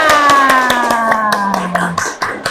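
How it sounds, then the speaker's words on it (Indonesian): A group of children in a classroom claps hands in a quick irregular patter under a sustained tonal hum, the clapping thinning out toward the end. "beri tepuk tangan"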